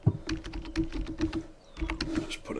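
Fingers type on a computer keyboard in quick, uneven bursts of close, crisp key clicks with a short pause in the middle, the keys alone with no talking.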